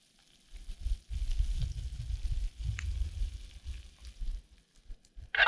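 Onions and cumin frying in a pan at a wild camp near Sandwood Bay, a steady low sizzle that rises and falls across several seconds, close by, with no talking over it.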